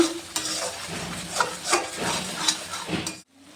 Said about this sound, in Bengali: 1 চামচ কাশ্মীর লঙ্কা গুঁড়ো দিয়ে ভালো করে আমি মশলাটাকে কষে নিচ্ছি